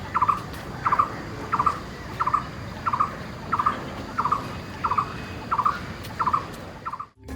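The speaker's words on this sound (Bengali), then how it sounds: "দেখুন কত পাখির আওয়াজ পাওয়া যাচ্ছে।" A bird in a Kolkata park calls in a steady, evenly spaced series of about a dozen short, identical notes. It is moderately close over faint background hum, and the sound cuts off abruptly at the end.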